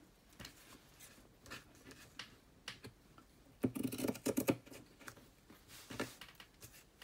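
A blade scoring repeatedly through bookbinding board, with faint scraping passes early and a denser, louder burst of rough cutting strokes in the middle, close and quiet, no talk.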